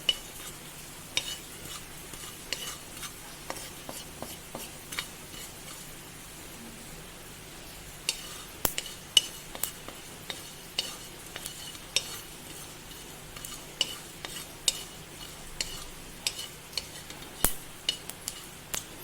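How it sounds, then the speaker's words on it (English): Fennel seeds frying in a pan for Goan chicken xacuti, a quiet low sizzle broken by frequent sharp scrapes and taps of a spoon stirring, irregular and close, with no talking. "I've added the fennel seeds, that is the bari shake. So I'm going to fry this also till it gets slightly brown."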